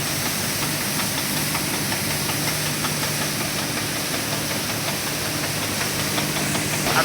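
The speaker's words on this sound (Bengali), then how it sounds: "এখানে বড় একটা মোটর আছে" A large motor runs in a rice processing mill at Chachkor Bazar, Natore, giving a loud, steady mechanical drone with hiss and faint knocking, continuous and unbroken throughout with no talking.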